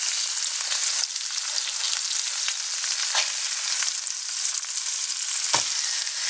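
Burger patties fry in a pan with a loud, continuous crackling sizzle, broken by a few brief scrapes and shifts of the spatula, heard alone without talk.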